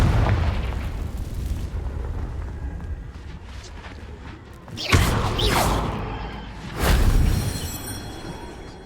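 Confringo fire spell blasts in the video game Hogwarts Legacy, two booming explosions a couple of seconds apart with crackling tails, over a rumbling game background.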